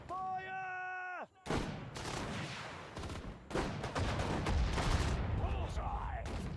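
Gunfire and artillery from Sudden Strike 4, set in the Dunkirk Allied campaign, burst out as repeated loud bangs and rattling shots after a short musical tone, continuing densely to the end with voices mixed in.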